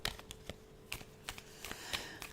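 Tarot cards being shuffled by hand in a quiet room, a run of crisp riffling flicks and soft slaps at an uneven rhythm, close and fairly quiet with no talking.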